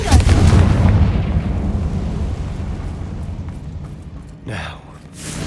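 In Hogwarts Legacy, a Confringo fire spell is cast and bursts in a heavy, rumbling explosion with a deep low boom that slowly fades, followed by a brief whooshing sound near the end.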